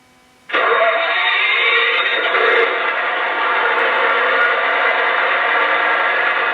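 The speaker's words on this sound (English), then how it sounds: "what you're hearing now are the generator sounds for the refrigeration unit" A steady mechanical drone of a model train refrigeration car's diesel generator sound effect starts abruptly and runs continuously, loud and close, with a dense, humming, buzzy texture.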